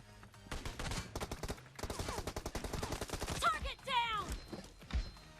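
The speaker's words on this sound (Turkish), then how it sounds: "Tabanca mı attın?" Pistol gunshots in the PUBG Mobile video game, a rapid burst of sharp cracks in quick succession, pausing briefly and then resuming, followed by whooshing effects and scattered single shots, with faint talk mixed in.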